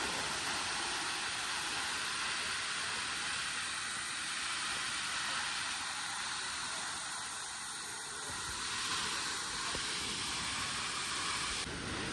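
Kangen waterfall in Japan pours down during heavy rain, a dense, unbroken roar of falling water that stays loud and steady from start to finish.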